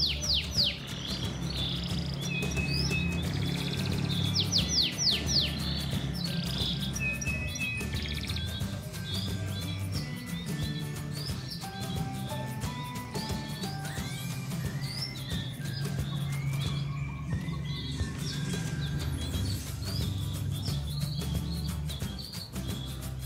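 A male canary sings continuously at close range with bright trills and chirping phrases, loud and alone, with no talk over it.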